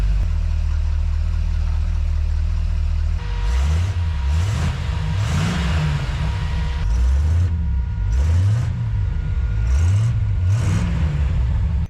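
A 1930 Model A hot rod engine idles steadily up close, with a low loping rumble and several short throttle blips that rise and fall in pitch, loud and alone with no talk.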